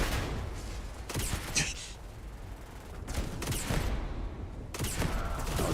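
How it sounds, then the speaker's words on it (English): Burst-fire gunshots in Starfield, sharp clustered volleys cracking out in three separate bursts, loud and close over a low background, with a brief breathy voice between them. "it's burst fire."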